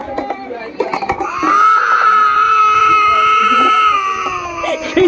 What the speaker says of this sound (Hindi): कैसे चिल्ला रहा है वो?